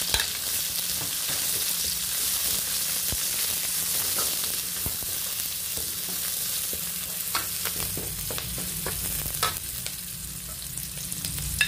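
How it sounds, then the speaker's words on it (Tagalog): Onion sautéing in a pan with garlic, a continuous close sizzle with scattered scraping and stirring clicks throughout, no voices. "Igisa ko ng sibuyas."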